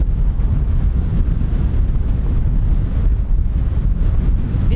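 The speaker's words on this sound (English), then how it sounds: "It is windy." Heavy, continuous low rumbling buffet of wind blowing into the microphone, loud and unbroken throughout, at Gedney Drove End by the RAF Holbeach air weapons range.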